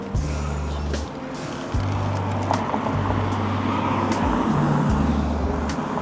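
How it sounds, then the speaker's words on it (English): A police car passes on a residential street with new flats, its engine and tyre noise rising into a steady roadway rumble, while a low tonal hum repeats in the background and faint chatter sits underneath. "And the police. Well, a police car."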